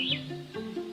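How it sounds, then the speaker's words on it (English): Native forest birds of Guam call in a brief burst of chirps and whistled notes, a few overlapping calls at moderate distance, fairly quiet and alone. "Guam was once home to over 12 native species of forest birds,"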